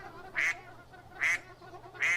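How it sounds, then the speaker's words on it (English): A duck gives three loud, evenly spaced quacks about a second apart, clear and close over a low background hum. "Did we just get a quack?"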